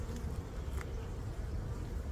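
Honeybees buzzing at a beehive, a dense continuous drone of many insects close by, steady and fairly loud with no talking.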